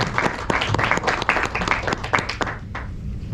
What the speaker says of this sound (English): I will ask for a round of applause for our speakers,